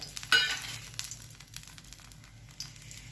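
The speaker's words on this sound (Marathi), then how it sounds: "आता आपण ह्या वड्या तळून घेऊया।" Quiet sizzle of colocasia-leaf rolls (alu vadi) shallow-frying in a little oil on a griddle, with a few sharp clinks and scrapes of a utensil, close by.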